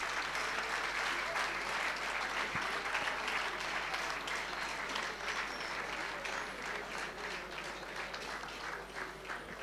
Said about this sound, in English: Let us say a big thank you to him with a round of applause